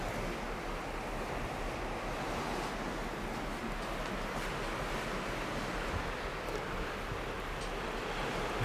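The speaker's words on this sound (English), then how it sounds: "there's a little waves, but we're barely moving" Small waves wash around a cruise ship drifting at sea, heard as a steady, broad, rushing noise with wind buffeting the microphone and no distinct breaks or voices.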